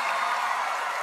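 A concert crowd at a tenth-anniversary live show applauds, a continuous, even roar of clapping that lasts the whole moment without a break.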